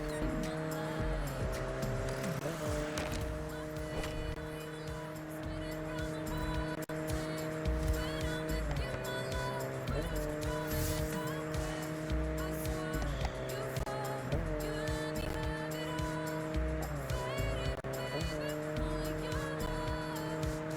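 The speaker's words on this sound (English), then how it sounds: "Just doing some high-speed driving down the highway." A car in the racing game Test Drive Unlimited Solar Crown speeds down a highway with a loud, steady engine drone that rises through the revs and drops at each gear shift, repeating several times.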